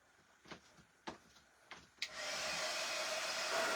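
A hair dryer blows air to dry a craft paste finish. A few light taps come first, then a loud, steady, close rush of air that continues to the end.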